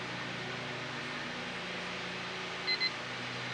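Two short electronic timer beeps ring out in quick succession near the end, clear above a steady hiss of room noise and fan-like hum, with no talking.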